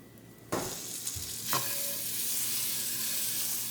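Country Crock butter drops into a hot pan and starts sizzling, a sudden burst of frying hiss followed by a scrape or stir, then a steady, close crackle with no talk.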